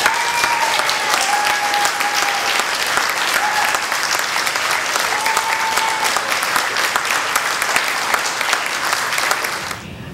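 Sustained audience applause fills a hall after a political endorsement announcement at a Black Republican association event in Manhattan, steady and dense throughout before tapering at the very end.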